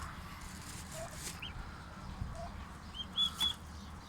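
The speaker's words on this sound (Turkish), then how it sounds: "bunlar da aynı şekilde bir aylık hindi yavrularımız" One-month-old turkey chicks chirp and peep faintly in short high calls, a couple louder near the end, over a low steady background hum.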